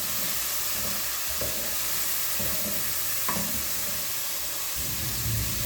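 Spices for khichuri and beef sizzling hard in a pan while being stirred, a continuous loud frying hiss with a few scraping clinks of the spoon and no talking.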